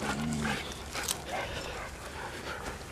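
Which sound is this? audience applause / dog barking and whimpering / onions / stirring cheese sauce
dog barking and whimpering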